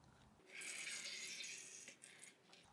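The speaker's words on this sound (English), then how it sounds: "Now we're gonna pour the activator." Slime activator liquid pours steadily for about a second and a half as a hissing, splashing stream while making green monster slime, then trails off into softer spatter.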